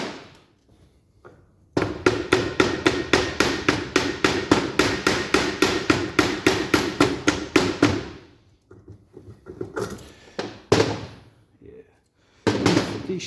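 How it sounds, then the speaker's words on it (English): Rapid, steady hammer blows drive a flat chisel through worn shims on a 1962 Land Rover Series 2A, a dense run of sharp metallic strikes for about six seconds, then a few scattered knocks and a last burst of blows. "if you can get these flat chisels like that, they come in handy because you can drive them all the way through."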